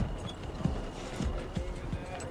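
Horses' hooves clopping on a road alongside carts, gun carriages and limbers in a retreating column of wounded soldiers, an uneven run of dull hoof thuds over a continuous rumbling bed, moderately close.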